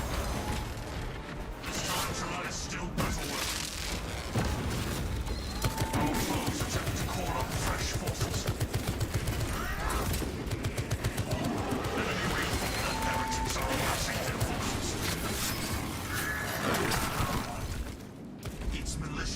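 Rapid turret gunfire in a sci-fi video game during a space siege against alien beasts, a dense continuous rattle of shots and crashing impacts filling the whole stretch, with a voice talking over it at times.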